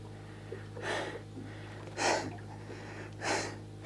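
Heavy breathing from someone catching their breath outdoors after exertion, three strong gasping exhales about a second apart, close to the microphone over a low steady hum.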